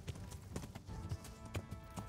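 Steady clip-clop of a horse's hooves trotting at an even rhythm in the game Kingdom Come: Deliverance, fairly quiet, with no talking.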